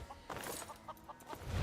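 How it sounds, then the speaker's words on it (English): A chicken in the video game Skyrim gives a few short, quick clucks, close and fairly quiet, followed by a low thump at the end. "Chicken!"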